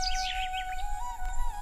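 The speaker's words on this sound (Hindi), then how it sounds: "अगली सुबह चिड़ियों के चाचाहट से" Morning birdsong in an animated rural scene: quick, bright chirps and tweets over a steady sustained tone and a soft low hum, fairly quiet.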